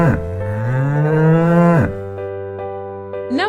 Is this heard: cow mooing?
yes